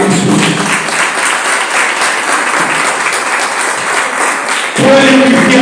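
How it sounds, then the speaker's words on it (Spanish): A church congregation bursts into strong, sustained applause, loud and dense for several seconds, with a swell of voices rising at the end. "Denle un fuerte aplauso a Jesús."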